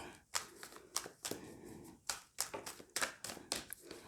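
Tarot cards are shuffled and drawn by hand close up, with quick papery riffles and snaps repeating in an uneven rhythm of short bursts and no talking.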